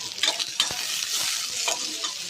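Fennel seeds frying in a pan of oil with onion, garlic and ginger for a chicken green gravy, a close steady sizzle broken by a few quick stirring scrapes, no voices.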